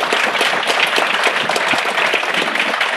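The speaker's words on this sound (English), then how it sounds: "I'd like you to give another big round of applause to Don Syme and Keith" A live studio audience gives a steady round of applause for two guests at the close of a .NET Rocks! podcast taping, dense clapping that holds even and unbroken for its whole length.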